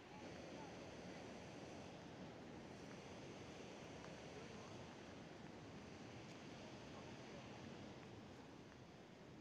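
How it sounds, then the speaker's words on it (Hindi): Saraswati river near Bhim Pul at Mana village, a fast mountain flow, sounds as a steady, loud broadband roar of rushing water that holds unbroken throughout with no talk. "ये सरस्वती नदी जो है उसकी आवाज़ है"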